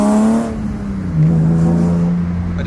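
A BMW E30 M3 driving on the road, heard from inside the car: its engine hums low and steady, drops briefly, then rises again as it pulls along, loud and close.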